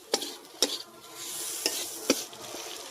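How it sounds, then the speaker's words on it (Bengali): Potatoes stirred into frying masala in a pan, a few sharp spoon scrapes and clinks standing out over a steady, low sizzle. "আলুটা দিয়ে ভালো করে নেড়ে নেব।"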